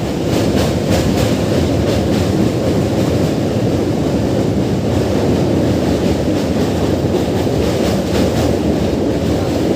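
A Sealdah–Barddhaman local train crosses a bridge over the Hooghly River, a loud, continuous rumbling roar with faint rhythmic clatter of wheels, heard from inside the carriage.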